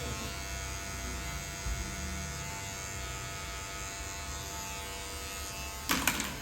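Electric hair clipper buzzing steadily while cutting a low fade, a constant close whine with a brief rattling burst near the end, no speech.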